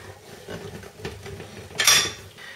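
A cooking pot of dried beans and butifarra set onto the stove, with soft kitchen shuffling and then a short bright metallic clatter as it lands.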